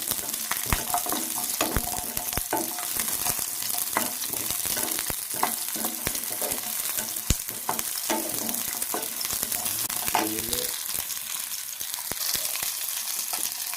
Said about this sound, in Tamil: ஒரு இருபது சின்ன வெங்காயம் போடுறேன் லைட்டாக வதக்குங்க